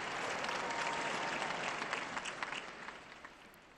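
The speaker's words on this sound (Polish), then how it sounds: "Oklaski dla nowego błogosławionego poproszę." A large crowd applauds at a papal general audience, steady clapping sustained and fairly distant, thinning toward the end.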